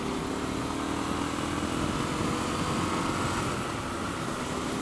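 A Triumph Scrambler 1200 motorcycle pulls under hard throttle, a steady broad engine roar mixed with wind rush, heard from the rider's position without speech.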